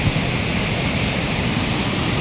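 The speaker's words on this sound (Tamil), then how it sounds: "தண்ணி கொஞ்சம் வாட்டர் ஃப்ளோ ரொம்ப அதிகமாகவே இருக்குது" Water from the Mullaiperiyar dam rushes strongly through a canal, a loud, dense, unbroken roar of turbulent flow with no voices.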